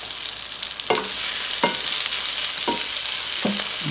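Sausage browning in a skillet, part of a cabbage, noodles and sausage meal, gives a constant loud sizzle and frying hiss, broken by four scraping stirs spaced about a second apart.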